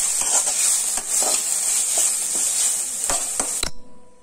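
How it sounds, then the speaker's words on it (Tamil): Manathakkali greens with grated coconut sizzle steadily in a pan, a bright continuous frying hiss punctuated by several utensil scrapes and taps against the metal, ending abruptly. "இந்த ஸ்டேஜ்ல வந்து நம்ம துருவன தேங்காவை போட்டு லைட்டா கிளறி"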